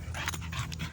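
Lil' Red, a 17-month-old bull dog terrier, pants hard and close, a quick run of about five breathy puffs with a faint whimper underneath.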